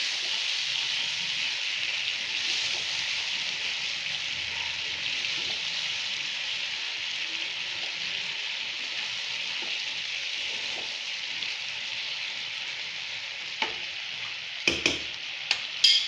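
Vegetables with soya sauce sauté in a pan, producing a steady, even sizzle that runs alone for the whole stretch, with a few sharp utensil clanks near the end.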